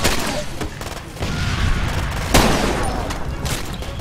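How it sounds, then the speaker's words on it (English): Gunfire in the video game Far Cry 2, a dense, continuous crackle of shots and booms filling the mix, with one sharper loud report near the middle. "Nah, I can hear his gun."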